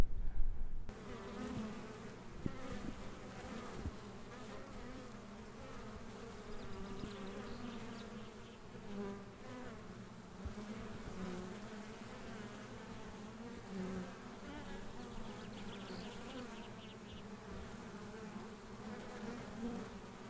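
Honeybees buzz around beehives in a fire-burned area, a dense steady drone of many insects that stays continuous and fairly close, with occasional individual bees passing nearer and no one speaking.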